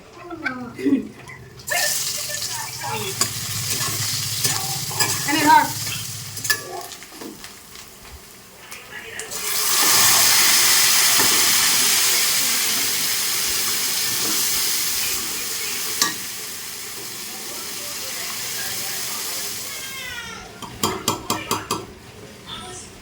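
Onions frying in oil in a home kitchen pan for khichuri, a loud, steady sizzling hiss that rises after a stretch of talking and clattering, holds for about ten seconds, then gives way to a few sharp clinks.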